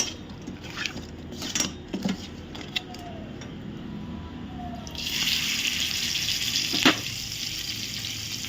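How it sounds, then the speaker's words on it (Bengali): Salt-and-turmeric-coated hilsa fish pieces go into hot oil one by one. Quiet kitchen clatter comes first, then a steady hissing sizzle swells up partway through, with a sharp loud crackle shortly after. "গরম করে নিয়ে নুন হলুদ মাখিয়ে রাখা মাছগুলোকে একে একে ছেড়ে দেব"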